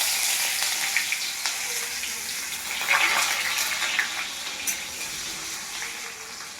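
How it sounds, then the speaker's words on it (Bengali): Chopped ginger and garlic dropped into hot oil for chilli chicken, a bright hissing sizzle that swells around the middle and settles into a steady close crackle, with no voices. "এবার তেলের মধ্যে মা প্রথমে দিয়ে দেবে আদা রসুন কুচিটা"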